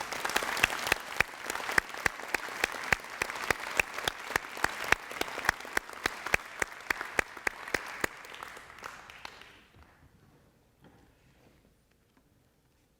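An audience at a Hall of Fame induction ceremony applauds its honorees, dense steady clapping with some sharp individual claps that holds for about nine seconds and then fades out to near silence.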